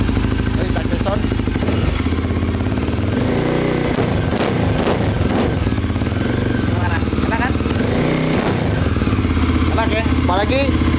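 A motorcycle, apparently a dirt bike fitted with an FMF Powerbomb exhaust, revs repeatedly with a loud, raspy engine note close by, while people talk over it.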